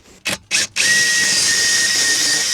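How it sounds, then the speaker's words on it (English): A power drill drilling through metal on a camper van whines steadily and loudly, grinding continuously after two short bursts of noise at the start. "I'm going to drill through from the top."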